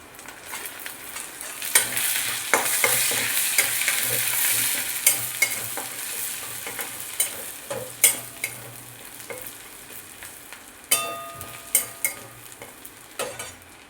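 Chopped jackfruit seeds stir-fried with browned onions in fish oil, a steady sizzle under repeated clinks and scrapes of a spatula against the pan, close and moderately loud.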